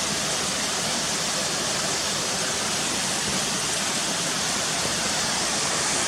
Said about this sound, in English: obviously that's your waterfall coming over the top